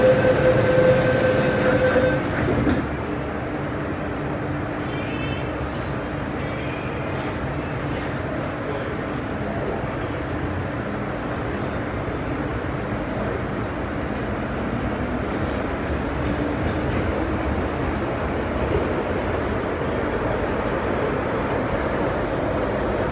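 A train rolls steadily along the tracks between stations with a constant rumbling clatter and hiss; a brief tone sounds at the start before the ride noise continues.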